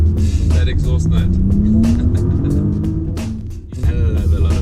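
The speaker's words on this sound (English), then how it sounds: "that exhaust note" A 2017 Porsche Panamera 4S revving close by, its exhaust rising in pitch through the gears with a deep rumble, a brief dip, then a sharp throttle blip, heard mostly clear of talk.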